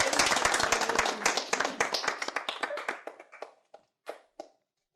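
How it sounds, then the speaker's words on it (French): Clapping for a birthday candle, a small group's hands beating dense and loud at first, then thinning out into scattered individual claps that trail off to a last few isolated slaps and silence. "Veuillez applaudir très très fort pour la bougie"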